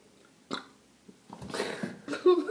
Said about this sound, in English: Oh, I have double burp.